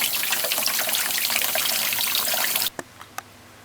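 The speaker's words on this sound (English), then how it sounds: "Another way to cool this is to put the pot in some water" Tap water running over a pot of stew peas to cool it, a steady splashing stream that cuts off abruptly near the end, followed by a few faint drips.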